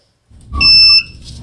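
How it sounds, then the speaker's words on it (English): A piezo buzzer in a solar4STEM Morse code breadboard circuit, switched by a push button, sounds one loud, steady electronic tone lasting about half a second, with a soft click before it and nothing spoken. "and the buzzer will go off"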